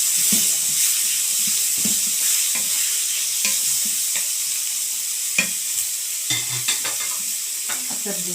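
Onion frying in oil in a pan for an okra dish, a constant hiss of sizzling under repeated close scrapes and clinks of a stirring utensil.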